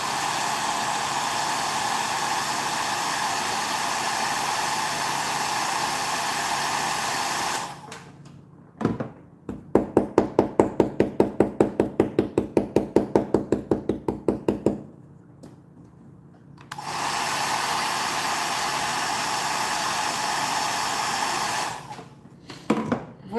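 Hair dryer blowing hot air over paint on a stenciled wooden box, a loud steady whoosh that cuts off, gives way to a rapid train of knocks, then starts up again.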